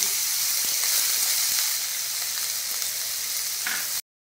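Chopped onions frying in hot oil for mutton nihari, a steady close hissing sizzle that holds evenly for about four seconds and then cuts off abruptly.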